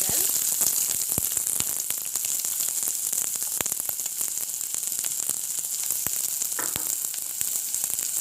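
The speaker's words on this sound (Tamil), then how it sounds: "இதுக்குள்ளே நான் வந்து 1 மேசக்கரண்டி தேங்காய் எண்ணெய் விட போகிறேன். இதுக்குள்ளே வந்து வெட்டி வச்ச வெங்காயம் போட போகிறேன்." Chopped onions sizzling in coconut oil, a dense, even crackle that carries on without a break, with scattered sharp pops and faint clicks.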